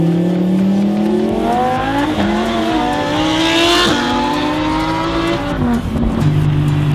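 A Lamborghini Huracan V10 with a loud exhaust revs hard and up close, its engine pitch climbing and dropping in repeated rising sweeps, loud and continuous with no talk over it.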